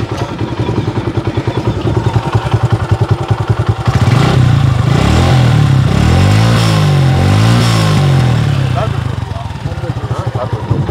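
A 2016 Suzuki Gixxer SF motorcycle engine runs with a loud, close single-cylinder thrum, then is revved several times in rising and falling sweeps before settling back toward idle.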